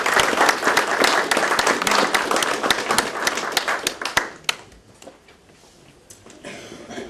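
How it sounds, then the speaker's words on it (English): An audience at a small-town council on aging candidates forum gives a round of applause, dense clapping for about four seconds that thins to a few scattered claps and fades out. "We could give them a round of applause."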